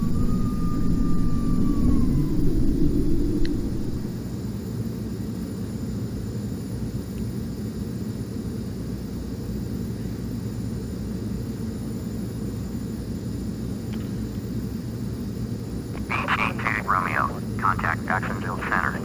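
A steady, loud aircraft engine drones throughout, with a brief pitch shift near the start and short bursts of radio chatter toward the end.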